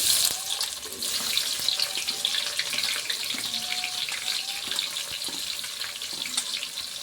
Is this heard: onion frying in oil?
yes